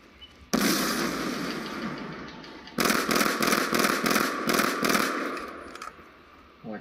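A bomb detonates in a tactical shooter round, a sudden loud blast with a sustained roar, then a second burst of rapid crackling pops that rumbles on for several seconds before fading, with no talking.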